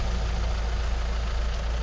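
A 2009 Volkswagen Jetta TDI diesel idling quietly, a low, steady rumble with faint clatter, heard close and alone.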